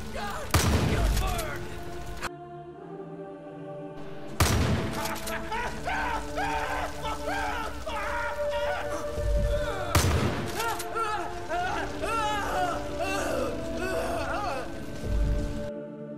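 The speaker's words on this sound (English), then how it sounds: "what I can use is an incendiary shotgun" An incendiary shotgun firing in the shooter game Far Cry 5, heavy single blasts spaced several seconds apart, each trailing into crackling fire and clatter, with a voice speaking between shots.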